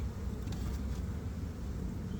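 Honey bees swarm around hives at an apiary during a hot, humid dearth, making a dense, steady low buzz that fills the scene without talk.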